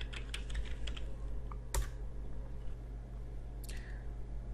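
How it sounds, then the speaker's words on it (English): Keystrokes on a computer keyboard at a Linux console as a root password is entered, a few scattered clicks and taps over a steady low hum, with no voice. "I am going to login as root user, then type in root's password."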